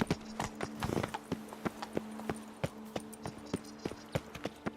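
Horse hooves clip-clop in a steady walking rhythm while riding in The Witcher 3 video game, crisp and close, with a low tonal hum running underneath.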